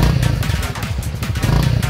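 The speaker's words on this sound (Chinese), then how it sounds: "现在就只有排气管的声音" Honda CRF300L motorcycle idling with its exhaust rumbling steadily up close, a continuous low throbbing note with no rattle from the license plate.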